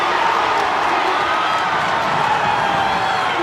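Loud crowd cheering and roaring at a college wrestling match between North Carolina and NC State, a dense sustained wall of voices filling the arena without letup.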